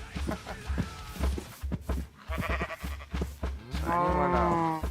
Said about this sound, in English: Oh, and the sheep's coming too.